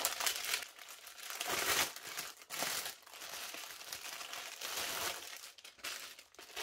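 Plastic packaging of a cross-stitch kit crinkles and rustles up close as it is torn open, in loud irregular bursts with brief pauses between them.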